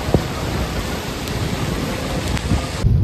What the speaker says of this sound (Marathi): त्या निघताना खूप जोरातच पाऊस लागला.